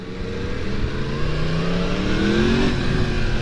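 Four-cylinder Yamaha MT-10 SP motorcycle engine revving up steadily, pitch rising as it accelerates, loud and close with continuous wind rush and no talking.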